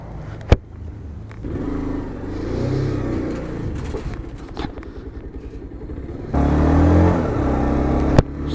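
A motorcycle engine revs up and down close by, loud and rough with clattering mechanical noise, and a stronger surge near the end.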